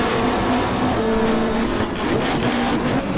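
Australian Super Touring race cars in the game GTR2 roar together at Calder Park, a steady, loud engine drone with shifting tones as the pack heads into a hairpin.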